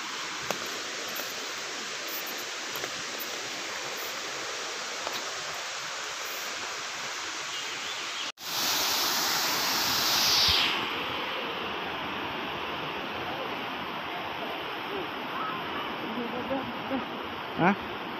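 Parangloe waterfall rushes as a steady, broad wash of falling water, with a brief sharp break and a short hiss partway through; no talk is heard.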